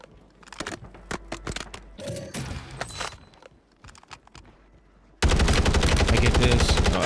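Rapid automatic rifle fire from an OG GRAU in Warzone on Rebirth Island, scattered bursts and single shots early, then a loud sustained stream of fire at the end.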